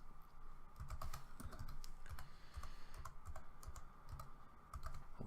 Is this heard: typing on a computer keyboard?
yes